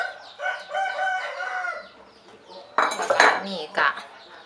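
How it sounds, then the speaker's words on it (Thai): Curry paste with lemongrass being pounded in a mortar for an Isan dish of chicken and banana blossom, giving a few loud, sharp knocks late in the clip after a stretch of softer, busy clatter. "เดี๋ยวเข้ามาเริ่มตำเครื่องแกงกันเนาะ ใส่ลงไปในโคกเข้าเลย"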